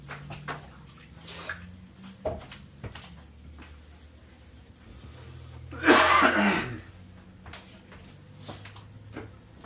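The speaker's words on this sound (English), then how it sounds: "I can barely talk because I keep coughing" A single burst of harsh coughing near the middle, close and fairly loud, with quiet room sounds and faint clinks around it.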